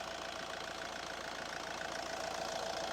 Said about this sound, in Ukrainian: Саме основне моторчик працює чітко, рівненько, без запотівань, підтікань.